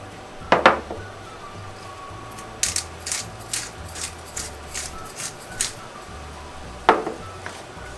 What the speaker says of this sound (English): I'm mincing the garlic